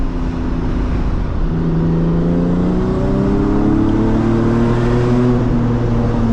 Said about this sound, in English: my car is pretty loud